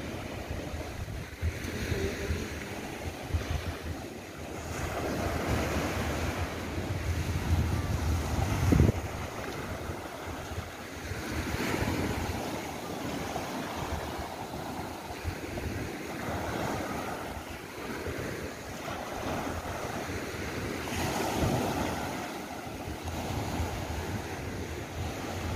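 Ocean waves wash and surge steadily against the shore at Mangodlong Rock beach amid blustery wind rumbling across the microphone, with no voices.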